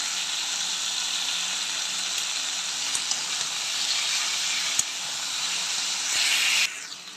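Vegetables with turmeric, salt and ginger-cumin paste frying in a pan, giving a loud, even hiss and sizzle that carries on steadily, with a few faint clicks.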